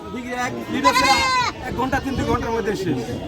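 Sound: goat bleating

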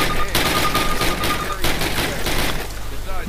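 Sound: gunfire in Call of Duty video game

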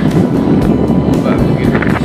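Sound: strong wind and big waves at a beach

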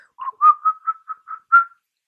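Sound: imitated whistling

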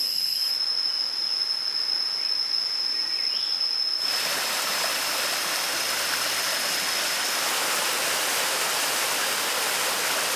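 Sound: stream along a waterfall hiking trail

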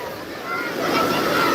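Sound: large ocean waves at Digha beach

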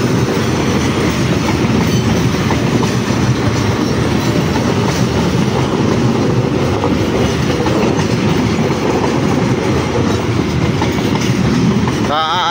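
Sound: KA Argo Parahyangan train passing

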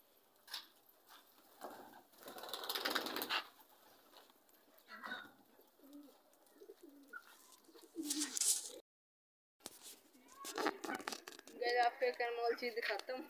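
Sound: racing pigeon cooing

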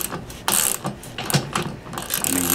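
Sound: socket wrench ratcheting

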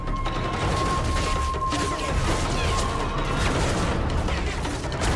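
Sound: mortar fire and gunfire in Call of Duty Modern Warfare 3 video game

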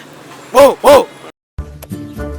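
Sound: another person imitating a dog barking

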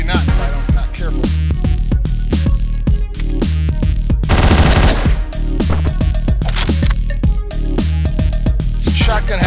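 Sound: shotgun firing in Hotline Miami video game

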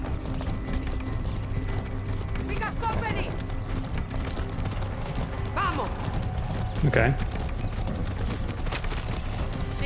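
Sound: horse hooves clip-clopping in the video game Far Cry 6

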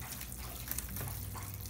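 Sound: warm water poured onto Jiffy seed starting pellets

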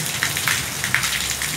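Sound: rain falling

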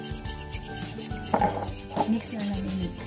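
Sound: stirring cornmeal puto batter in a bowl

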